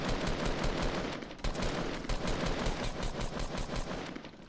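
Fortnite gunfire plays as rapid machine-gun bursts, loud and close, firing in quick rhythmic volleys almost without pause. No one speaks over it.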